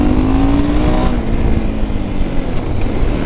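A small fun motorcycle accelerating hard in third gear, its engine note rising steadily, loud and close, with wind rush around it.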